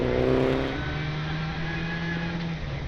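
A rally car races flat out along a forest stage during the 2014 Quit Forest Rally power stage, its engine holding a loud, steady high-revving drone as it passes nearby, alone without voices.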